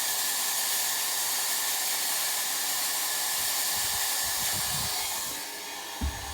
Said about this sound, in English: I'm actually just going to heat the tip of my X-Acto tool up using the welder